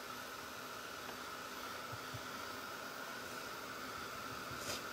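Hair dryer blowing steadily on fresh paint, a continuous even hiss with a faint hum, close and fairly quiet, with no breaks across the whole stretch.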